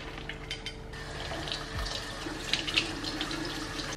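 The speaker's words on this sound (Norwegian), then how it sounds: "så skyller vi dem i vann i 20 sekunder." Running tap water pours steadily over boiled tapioca pearls being rinsed in a kitchen sink, a continuous close splashing stream with small bumps of water hitting the pearls.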